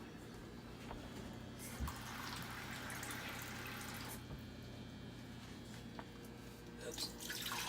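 A cup of water or chicken broth poured into a pot of chicken gives a soft, continuous liquid trickle and splash, fairly faint and close, with a faint murmur of voices underneath.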